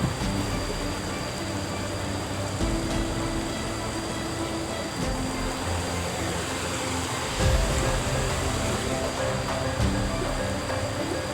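A river flows beside the path to Candi Ngempon, a steady broadband rush of moving water heard outdoors at constant, moderately loud level.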